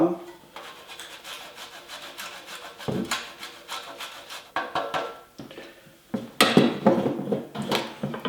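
Spaghetti frittata batter with parmesan being mixed in a bowl, heard as uneven scraping and rubbing strokes with occasional louder knocks from the utensil.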